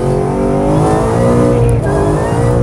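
A car fitted with an MGW race spec shifter accelerates hard, its engine note rising loud and close with no voices.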